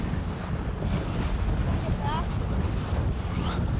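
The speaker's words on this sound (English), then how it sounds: "The current is strong now and the waves choppy." Choppy ocean waves slap around racing boats under strong current, a constant rushing surf with heavy wind buffeting the microphone.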